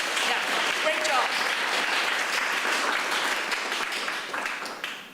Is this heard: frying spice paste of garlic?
no